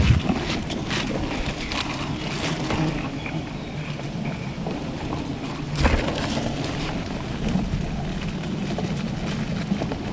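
Strong gusty wind buffeting a microphone outdoors during rural wild honeybee hive harvesting, a loud continuous rumbling roar with irregular bursts and brief crackles, no talk.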